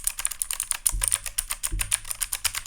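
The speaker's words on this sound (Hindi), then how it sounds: "ब्लू स्विचेस हैं तो एक क्लिकी एंड टैक्टाइल फीडबैक मिलेगा आपको, कुछ इस टाइप का।" A compact mechanical keyboard with clicky blue switches gives rapid, crisp clacking keystrokes close up, with a couple of heavier thocks, a steady typing rhythm and no talking.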